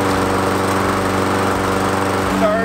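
A Toro Recycler 22 in. lawn mower roars steadily at close range after starting on the first pull, its engine droning with an even, continuous buzz throughout.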